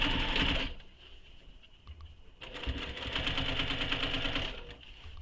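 A sewing machine stitches the other side of a crossbody bag seam in two bursts, the first short and the second longer and steady, with a rapid mechanical chatter and a quiet pause between them.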